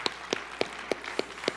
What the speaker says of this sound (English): Give your partner a round of applause right now